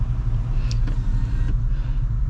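Steady low engine rumble and road noise from a Lexus LC 500 cruising on the road to a Cars and Coffee meet, heard close from inside the cabin, loud and continuous with no talk.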